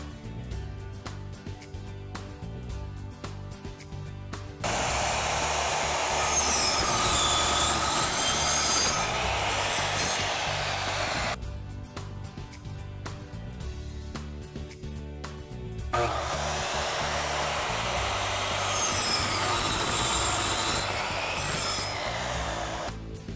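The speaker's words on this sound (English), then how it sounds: "Now I have a circular saw, and that's how I'm making my cuts." A circular saw cuts through boards for a memory board, two long loud whining passes separated by quieter stretches of tonal hum, close and without talk.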